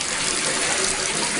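Water gushing and splashing steadily in a bathtub or sink as toys are washed, a continuous close wash of running water with no pauses.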